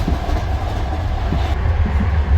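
A train running on rails, steady close rumble with rhythmic clicking from the wheels and faint squeals, continuous throughout with no voices.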